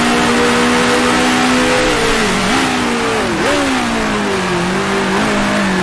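Engine of a 1966 Formula One car in the Grand Prix Legends racing game, holding a loud steady roar that dips sharply twice as it downshifts, then settles into a lower note.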